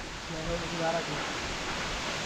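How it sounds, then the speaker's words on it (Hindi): Vasudhara waterfall near Badrinath in the Himalayas, pouring down close by as a steady broadband roar of falling water, with a faint voice briefly audible underneath. "पूरा पानी हमारे ऊपर आ रहा है"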